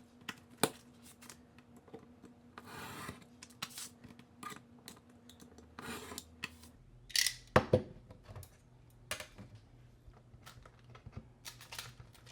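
Scrap material being trimmed by hand for a homemade bound book, with scattered faint clicks and soft snips in a quiet room, one brief louder cut partway through.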